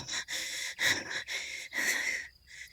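A voice imitates the ragged, heavy breathing of Zephyr, an angry, disheveled character: close, wheezing breaths in quick repeated pulses with short gaps, and no spoken words.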